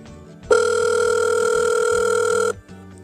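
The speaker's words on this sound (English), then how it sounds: "The telephone rings." A telephone rings with one steady electronic tone lasting about two seconds, loud and close, with quiet background sound before and after.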